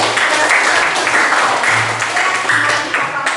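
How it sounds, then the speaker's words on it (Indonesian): A classroom group claps together during a lesson, a loud, continuous patter of hands with slight rhythmic pulses, close and sustained for the whole stretch. "Tepuk tangan buat kita."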